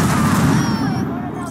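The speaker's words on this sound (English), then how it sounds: "My favorite quick hack to use is Detonate Grenade." A grenade blowing up in Cyberpunk 2077, set off by a Detonate Grenade quickhack, heard as a loud, dense booming blast that rumbles and slowly fades across the whole moment.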